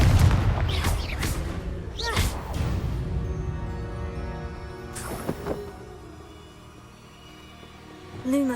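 A Confringo blasting spell goes off in Hogwarts Legacy, a few loud booming blasts early on followed by quieter hits and ringing game sounds, with a voice speaking.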